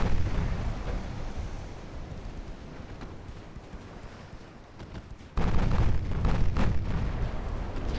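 Explosions and gunfire pound a warship in a naval video game as it takes hits from 8-inch guns, a dense rumbling barrage that eases midway and then surges back louder.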